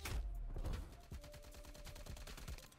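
Milano 821 submachine gun fired in Call of Duty Black Ops Cold War, heard as rapid automatic bursts of sharp, evenly spaced shots, close and fairly loud, with a short pause between strings of fire.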